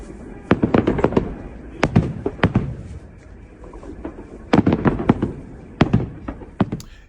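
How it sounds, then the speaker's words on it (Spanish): Fireworks burst at a Defender of the Fatherland Day celebration in Russia, sharp cracking pops arriving in irregular clusters, fairly close and loud, with quieter gaps between volleys. "los clásicos fuegos artificiales que tirarán de frente"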